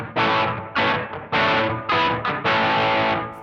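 An electric guitar runs through a Donner Yellow Fall 2 pedal set to room reverb, playing five loud, distorted strummed chords in a steady rhythm, each left to ring and fade into a thick reverb tail.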